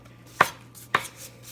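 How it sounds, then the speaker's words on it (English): Two sharp knife chops cut through cooked chicken on a cutting board, each a crisp isolated strike about half a second apart, close and fairly loud against a quiet kitchen hum. "So, just chopping it up."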